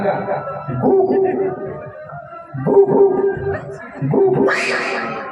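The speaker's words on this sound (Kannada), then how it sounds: "ಬೀದಿ ನಾಯಿ ಕೊಡ್ನಿ ಸುಮ್ಮ ಹೋಗಂಗಿಲ್ಲ ಗೌಡ ನಾಯಿ ಬಗಳ್ತದ" A nearby dog barks and howls in three drawn-out bursts separated by short pauses.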